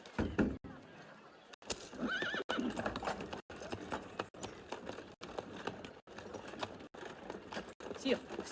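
Horses in the video game Assassin's Creed Unity neigh and whinny over steady clip-clop hooves, with game ambience and some voices underneath.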